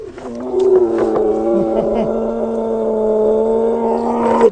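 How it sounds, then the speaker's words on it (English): A liger, a lion and tiger hybrid, gives a deep sustained roar, loud and close, holding steady for several seconds with rough low harmonics and no talking. "As we can see, the sound of the liger is majestic and magnificent."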